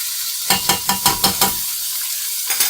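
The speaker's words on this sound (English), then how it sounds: "there's nothing better than the smell of onion and garlic cooking." Minced garlic and onion fry in a pan for gluten-free vegan pad thai: a run of quick, rhythmic stirring scrapes over a soft sizzle, then a pause and one more stroke.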